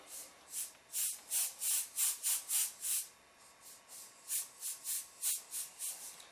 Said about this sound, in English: I'm just going to spray this really, really light.